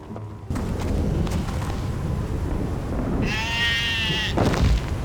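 Sheep bleats in a zombie video game where the player rides a sheep, a harmonic bleat standing out near the end over a steady bed of game noise and low thumps.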